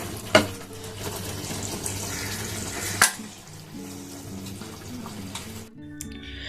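Fish, one of them a catla, frying in a pan, a steady hiss and sizzle with two sharp crackles and splashes as the fish go in, fading to a quieter bubbling near the end.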